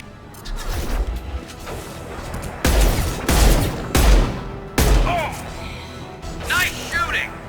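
Gunfire rattles through Mass Effect 2 combat in loud bursts of rapid shots and impacts, coming in several distinct volleys with short gaps between them. Voices talk over the fighting.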